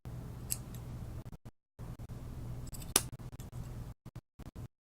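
Scissors snipping at a Shih Tzu's bangs during grooming, a run of soft close metallic clicks with short pauses between bursts and one sharper snip near the middle.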